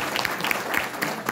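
An audience claps steadily at a DXN business opportunities meeting in Janakpur, Nepal, a dense, fairly loud wash of many hands that holds without pause.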